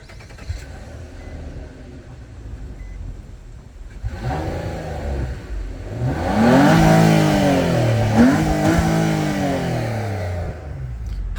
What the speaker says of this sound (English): Let me shut it down and turn it up again. Then you'll hear how good this engine sounds.